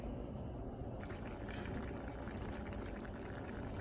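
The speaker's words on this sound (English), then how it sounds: "now it is bubbling, as you can see, a little bit towards the middle" A pot of oil-free spicy rice and beans simmers on the stove, giving a steady low bubbling hiss without pause and no talking.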